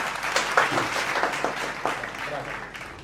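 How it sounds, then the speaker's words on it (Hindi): A studio audience on a Hindi talk show claps steadily to welcome a guest, with scattered sharp claps forming a continuous moderate round of applause throughout. "तालियों की गड़गड़ाहट के साथ स्वागत करना चाहूँगा"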